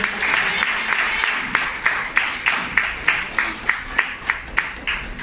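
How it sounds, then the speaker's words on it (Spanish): Church congregation applauding during a Spanish-language sermon, clapping that settles into a regular rhythmic beat of sharp claps toward the end. "¿Cuántos dan un aplauso por haber conocido a Jesús?"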